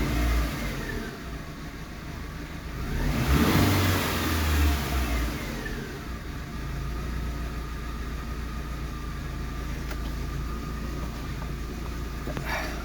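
A Chevrolet Spark 1.0 engine is revved once to a loud peak, then settles back to a steady idle hum, heard close and alone.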